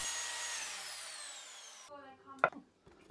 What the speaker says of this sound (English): Then I proceed to cut the wood at a 45-degree angle.